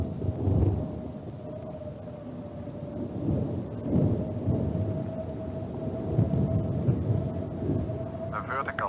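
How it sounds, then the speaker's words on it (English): Thunder from a nearby lightning strike rumbles low and rolling through an approaching storm, heard from inside a research aircraft over engine drone and a steady tone, swelling in several deep surges. "A vertical lightning discharge at 3 o'clock."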